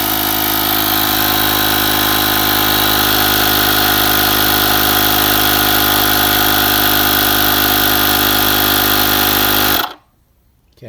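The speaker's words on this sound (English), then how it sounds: "So we'll put some air in the tube now." An electric air pump inflating a small bike inner tube runs loud and steady with a constant motor drone and buzz for about ten seconds, then cuts off abruptly into near silence.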